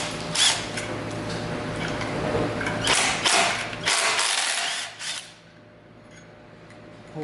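A hand ratchet works 12 mm nuts on the 1FZ-FE engine of an 80 Series Toyota Land Cruiser during a head gasket job, giving close bursts of rapid clicking with short pauses between them before going quiet.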